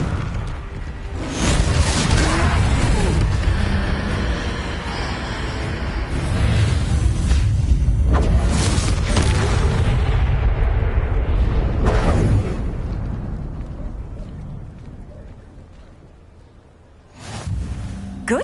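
A Confringo fire spell from the Hogwarts Legacy video game erupts in a loud, sustained blast with booming rumble and whooshing debris, easing off before a final sharp burst near the end; no one speaks.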